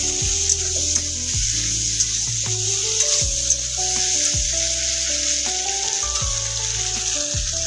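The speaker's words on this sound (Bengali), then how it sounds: "এটাকে এখন আমি একটু ভেজে নেব 3 থেকে 4 মিনিট" Three green chillies frying in a pan, giving a loud, steady hiss of sizzling oil with small crackles, running continuously under soft background music.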